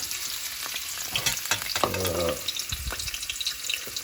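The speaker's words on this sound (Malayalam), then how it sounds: "നെയ്യ് ചൂടായതിനു ശേഷം അതിലേക്ക് ആദ്യം നമുക്ക് തേങ്ങാക്കൊത്തിട്ട് കൊടുക്കാം." Coconut pieces fry in hot ghee in a pan, giving a continuous close sizzle with stirring scrapes and a brief louder clatter midway.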